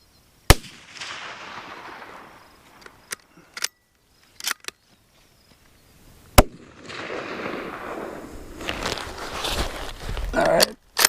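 Shots from a CZ 527 carbine rifle at an outdoor range, loud sharp cracks with a few fainter reports between them, separated by stretches of wind and handling noise.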